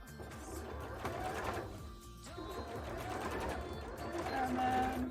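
A sewing machine runs a top stitch along a handmade rainbow bra, its steady mechanical whirring continuing across the clip with one brief pause near the middle, close and fairly loud.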